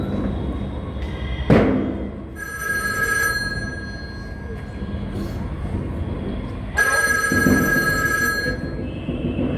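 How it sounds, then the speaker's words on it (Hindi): A telephone rings during an outdoor stage drama in a park, two separate bursts of bright ringing over a background of crowd murmur and occasional thumps. "सेक्रेटरी, जोसेफ स्टालिन को फोन लगाइए"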